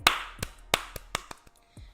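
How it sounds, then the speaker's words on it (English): A single person claps their hands a handful of times, sharp close slaps spaced unevenly with pauses between them, alone with no voices. "Can you hear me clapping?"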